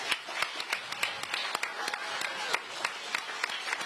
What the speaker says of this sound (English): How about a round of applause for our candidates?